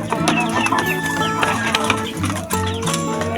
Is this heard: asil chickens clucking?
yes